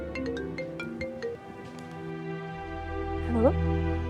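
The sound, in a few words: phone ringtone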